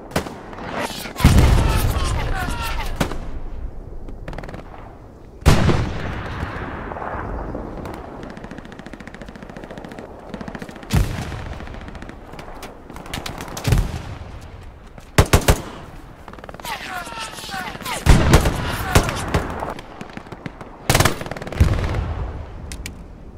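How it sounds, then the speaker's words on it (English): In the World War II shooter Hell Let Loose, machine guns fire loud, close bursts again and again, mixed with heavy explosions, while faint voices talk underneath. "The MGs are killing us."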